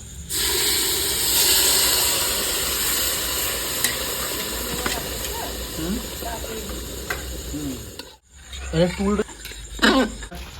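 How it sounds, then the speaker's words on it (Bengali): Hot water pours onto rice in a cooking pot with a loud steady hiss and sizzle that fades into bubbling, followed by someone talking. "এখানে আমি গরম জল দিচ্ছি এক বাটি চাল নিয়েছি দু বাটি জল দিচ্ছি"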